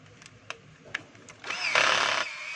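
A DeWalt DCD710 10.8 V cordless drill, its transmission just repaired, whirs up close for under a second after a few light clicks, a brief high-pitched motor whine that then drops away.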